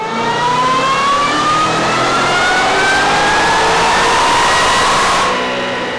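A supercharged car engine fitted with a VMP Gen 6 3.0 L Stage 2 or Roush Phase 2 kit, loud and close on a dyno pull, revving with a rising supercharger whine and a steady roar that tapers at the end.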